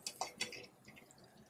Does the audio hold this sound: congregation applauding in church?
no